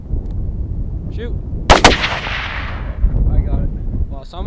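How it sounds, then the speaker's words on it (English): Two rifle shots fired almost together during a mule deer hunt in Alberta, Canada, a loud close double crack with a rumbling echo decaying over about a second, set among quiet outdoor ambience and low voices. "We shot just about at the same time."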